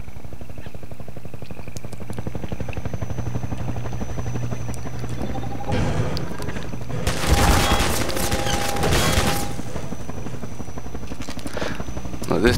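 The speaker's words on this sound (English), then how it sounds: "This must be the most reinforced armor-heavy helicopter I've ever seen, because it literally takes about 50 rockets to take down." In Half-Life 2 Episode 2, a combat helicopter's rotor drones continuously while several loud bursts of rapid gunfire and explosions erupt in the middle, followed by the steady rotor hum again.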